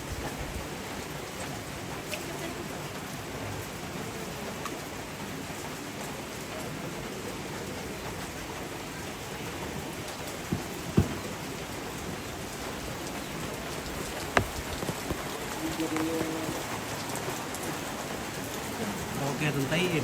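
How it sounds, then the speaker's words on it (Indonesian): Steady rain falls throughout, a dense even hiss with a few louder drops or knocks, at a mourning gathering for a deceased elder. "hujan."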